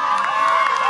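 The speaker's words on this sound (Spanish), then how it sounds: "El grito bien fuerte del liceo, a ver." High school students at an outdoor grape and wine festival in the town of Rodríguez join in a loud sustained group shout, a dense crowd roar with no pauses.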